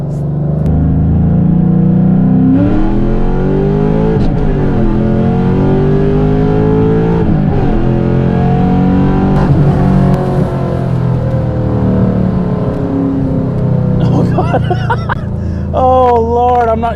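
A fourth-generation Chevrolet Camaro SS engine pulling hard from first through third gear, loud and sustained with rising revs, brief dips at the shifts, and speech-like sounds over the engine.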